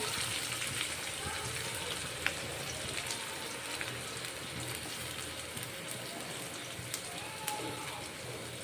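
Chopped green onions dropped into hot oil with cumin and curry leaves, a steady soft sizzle and crackle with occasional pops, quiet and even throughout.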